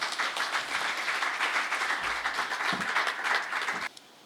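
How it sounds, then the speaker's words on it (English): An audience applauds at a closing ceremony for an EU-GIZ project. The dense, steady clapping fills the room for about four seconds, then stops abruptly. "A round of applause."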